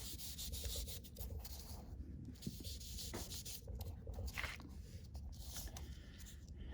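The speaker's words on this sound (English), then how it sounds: "I'm just going to rub my vellum with it." Vellum being rubbed with an alcohol ink applicator tool, ink drops on the felt, over an embossed Christmas card panel: a soft, steady scraping rub that comes in short strokes, close and fairly quiet, with no talking.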